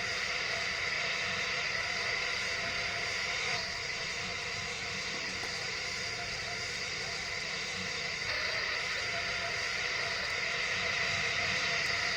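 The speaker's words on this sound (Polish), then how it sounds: "To jest chyba najszybszy samolot w PTFS-ie, wiecie?" Steady airplane engine drone from a fast plane flying in the Roblox-style flight game PTFS, a constant broadband roar filling the whole stretch with no pauses or talk.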